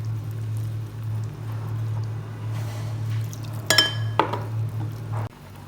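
Water is stirred into a batter for coating crispy french fries, with a couple of sharp clinks of a spoon against the bowl and soft wet mixing sounds over a steady low kitchen hum.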